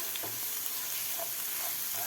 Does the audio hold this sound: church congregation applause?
no